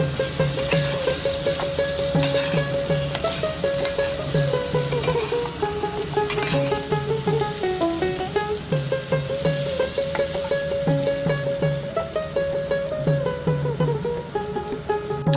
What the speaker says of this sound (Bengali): কেটে রাখা আলুগুলো দিয়ে দেব সাথে হলুদ একটু লঙ্কা গুঁড়ো আর স্বাদ মতো নুন দিয়ে ভেজে নেব